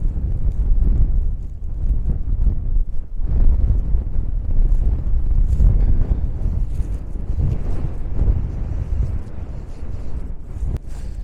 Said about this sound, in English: windy, like blow you over windy